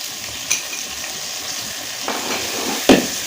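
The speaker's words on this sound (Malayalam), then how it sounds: "അത് പാകമായ ശേഷം തക്കാളി അരിഞ്ഞത് ചേർത്ത് ഇളക്കുക." Chopped tomato frying with onion, crushed ginger and garlic in a pan for a river fish dish, a steady sizzle broken by a few clinks and scrapes of the spoon as it is stirred.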